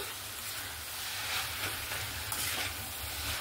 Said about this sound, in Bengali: সেদ্ধ করে রাখা মোচা দিয়ে দেব, দিয়ে ভালো করে মশলার সঙ্গে আমি মিক্স করে নেব।